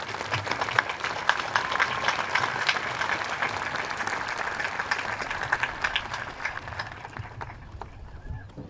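A large audience applauds the senior class at a high school graduation ceremony, with dense sustained clapping and some crowd noise that gradually tapers off toward the end.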